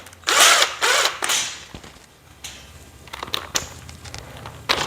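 A power drill drives screws into a shelf unit during assembly, giving a few short, fairly close whirring bursts separated by quiet gaps and light handling clatter.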